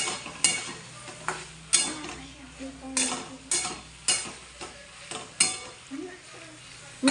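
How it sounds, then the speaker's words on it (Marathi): A spoon scrapes and stirs repeatedly in a pan as crushed peanuts are mixed into an ivy gourd stir-fry, with rhythmic strokes over a soft, close sizzle. "आता त्याच्यात दोन चमच्या शेंगण्याचं कूट टाकून आणि मिक्स करू"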